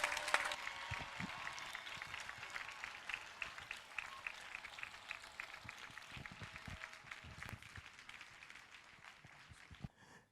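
Congregation clapping together at a Sunday church service, a steady dense roll of many hands that holds for several seconds before tapering and stopping.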